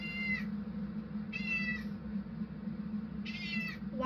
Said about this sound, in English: it seems my cat has something very important she wants to say.